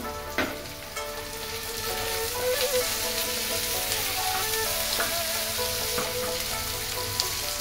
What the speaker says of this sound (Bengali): এটাকেও একটু নেড়ে চেড়ে ভেজে নেব যতক্ষণ না আদা রসুনের গন্ধটা কেটে যায়